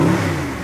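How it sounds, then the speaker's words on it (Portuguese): A car engine revs hard and loud, a steady deep roar holding across the whole short moment. "Dá uma acelerada lá pra mim ver o barulho daqui lá de fora"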